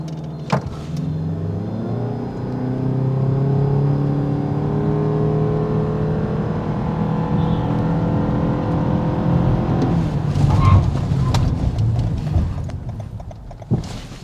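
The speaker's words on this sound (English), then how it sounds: "Those are good brakes, and that's very good acceleration." A Toyota Crown pulls away hard, its engine note climbing in clear stepped harmonics as it gains speed, then a change near the end suggests braking, with a few clicks and knocks at the start and finish and no talk.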